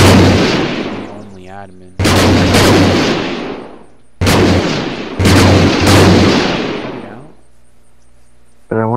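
Sniper rifle fire in the video game Unturned: four loud, close gunshots, each followed by a long booming decay, with a short burst of speech between the first two shots.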